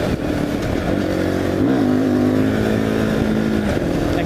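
A Fantic Caballero 500 Scrambler single-cylinder engine drones steadily while riding, close and loud, with a brief rev change midway before settling back into a constant pitch.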